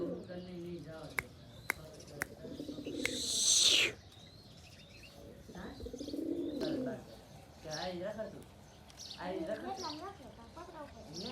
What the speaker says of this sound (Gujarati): કુલ કેટલા કબૂતર છે કોમેન્ટ કરવા હાલો